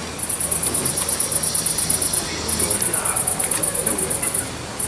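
High, rapid insect trills from a cicada (Cicadetta/buffalo treehopper-type cicada) pulse in two long bursts separated by a brief pause, like crickets chirping steadily over a faint low background.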